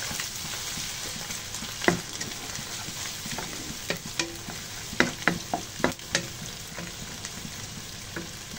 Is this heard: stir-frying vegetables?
yes